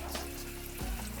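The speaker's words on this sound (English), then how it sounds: "I'm going to pass some water over it." A tap sends a steady stream of water over fresh moringa leaves held in a colander, giving a continuous close splashing rush with a slight shift in pitch near the end.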